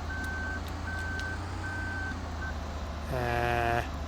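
Reversing beeps from a combine or farm vehicle in Farming Simulator 2013, four evenly spaced steady tones over a constant engine drone, then a brief air-brake-like hiss and tonal rumble near the end.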